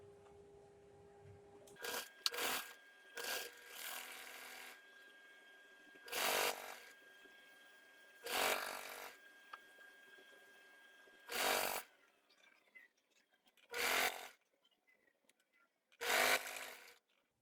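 Short bursts of a sewing machine stitching around the decorative top edge of a dish towel, six or seven separate runs of a few seconds each with quiet pauses between, fairly faint and with no talk.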